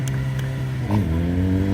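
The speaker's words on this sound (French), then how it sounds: "À chaque fois que tu donneras un coup de gaz" A car engine idles steadily and then takes a short blip of the throttle, its rumble lifting briefly before settling back to a loud, close idle.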